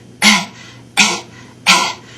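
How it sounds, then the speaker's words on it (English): Three soft, breathy throat clearings in an even rhythm, each a short airy rasp, close and fairly gentle with no talking. "you need to learn how to clear your throat in a way that's less aggressive, less violent, like this."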